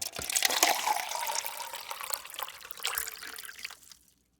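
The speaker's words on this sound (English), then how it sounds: "That was a good pour." A drink poured into a cup, a close, bubbling stream of liquid that splashes and gurgles steadily for about four seconds before cutting off into silence.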